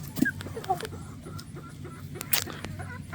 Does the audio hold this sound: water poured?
no